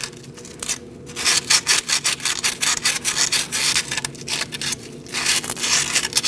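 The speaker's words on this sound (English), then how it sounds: "I'm using some rough emery" Rough emery cloth scrubbing rust from inside a wheel hub on a 2004-2012 Chevrolet Colorado, a loud, close, rhythmic rasping of fast back-and-forth strokes with a couple of brief pauses.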